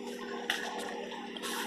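A pump underletting water into the grain mash for an oatmeal stout, a faint steady hum with soft gurgling and trickling water, alone.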